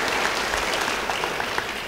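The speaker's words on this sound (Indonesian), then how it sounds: "beri tepuk tangan yang baik bagi dia" A church congregation claps steadily at a Good Friday service, a dense wash of applause that holds at an even level for the whole stretch.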